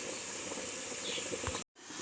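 Water boils in a pot, a faint, steady steamy hiss with light bubbling that cuts out for a moment near the end before resuming.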